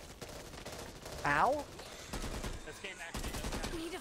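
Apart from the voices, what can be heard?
gunfire in the video game Back 4 Blood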